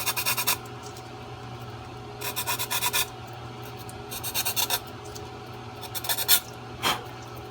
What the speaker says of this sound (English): take the sharp edge off of that, piece of circuit board there, a little piece of fiberglass edges that might be sticking up